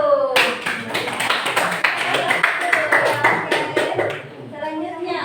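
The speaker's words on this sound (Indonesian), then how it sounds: "kita kasih aplaus dulu untuk kelompok 1" Students in a math classroom give group 1 a round of applause: dense, lively clapping from many hands lasts about five seconds before fading out.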